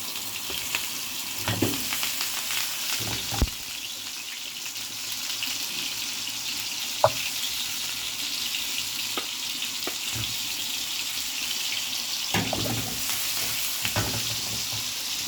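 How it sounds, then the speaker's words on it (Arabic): Daoud Pasha kofta meatballs fry in a mix of oil and ghee, giving a steady close hiss of sizzling with a few sharp clicks and soft knocks scattered through it and no voices. "ابتدي بقى ادحرجها كده في الزيت"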